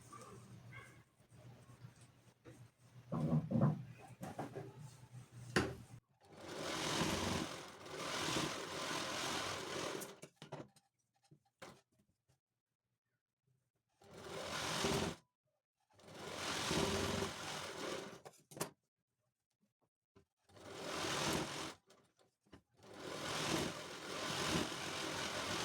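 A sewing machine stitches a blouse sleeve in short bursts, each run of whirring needle motor lasting a few seconds and separated by pauses, with quieter handling noise and faint talk near the start.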